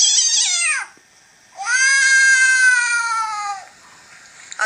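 A person imitates an angry, pissed-off cat with two loud, drawn-out harmonic yowls separated by a brief pause, each rising and then sliding down in pitch, heard close up with no other talk.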